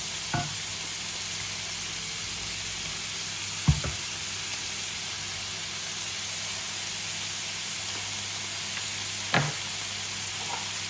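King prawns sizzle and hiss steadily in a hot wok, with a few sharp clinks of a utensil against the metal breaking the constant frying noise.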